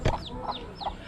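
A chicken clucks a few times in quick succession, close and fairly soft, with a brief louder burst at the start and faint chirps between the clucks.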